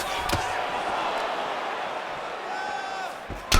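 Crowd in a UFC bout in EA Sports UFC 4 gives a sustained roar and swelling ooh that rise and fall through the whole stretch, with a few sharp thuds.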